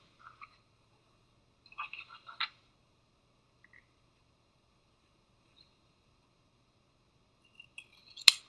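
Scissors snip the corners of a fabric pillow casing: a few quiet, close clusters of crisp cuts separated by silence, with a sharper snip at the end.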